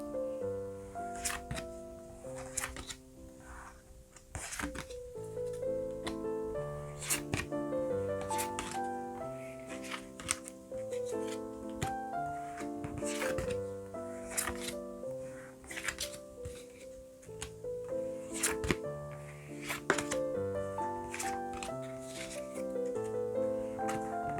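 Tarot cards are shuffled and drawn in a steady run of soft papery flicks and snaps, quiet under continuous background music throughout.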